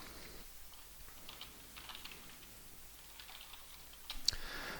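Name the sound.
typing a password on a computer keyboard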